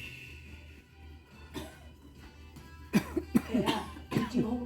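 Several harsh coughs come in a quick close cluster, followed by throat-clearing bursts, at a prayer and healing session over a faint room hum.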